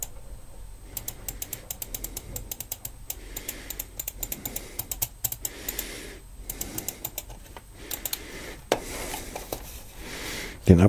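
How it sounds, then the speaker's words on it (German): Clicks from an Acer wired computer mouse, Model O with six buttons and adjustable DPI, come as rapid sharp bursts, close and fairly quiet, over faint background noise. "Wir haben das Klickgeräusch,"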